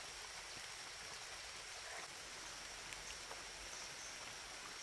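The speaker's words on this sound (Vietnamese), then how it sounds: "Mưa to quá rồi" Heavy rain pours steadily in an outdoor rural spot where snails and mussels are gathered, a dense, continuous hiss of drops with no break, fairly distant and even in level, with no voices.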